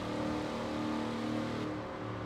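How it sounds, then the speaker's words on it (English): A 2010 Ford Crown Victoria Police Interceptor V8 revs steadily, its deep engine note droning continuously and fairly loud, with a slight shift in tone near the end. "I do quite like the engine sound. It's a distinctly American sound."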